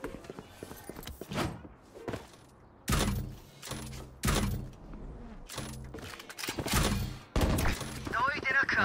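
Bursts of gunfire in the Valorant video game, several sharp loud volleys spread across the span with footsteps and scattered shots between them.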